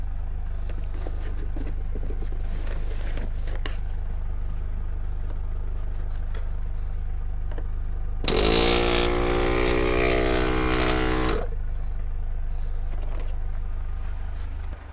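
A small car tire air compressor, the Shturmovyk AC-50, kicks on with a loud, steady buzzing drone for a few seconds, then stops, leaving a low background hum.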